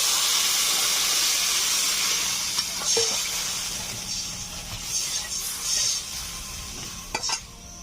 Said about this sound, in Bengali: মশলা ও আলু ভালো করে কষে নিয়েছি, এখন দিয়ে দিচ্ছি জল।